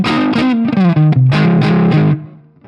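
Distorted electric guitar riff from an ESP guitar with two EMG humbuckers, played through a BT PT50 pedal: loud, crunchy chords and bent notes in a steady phrase for about two seconds, then ringing out alone.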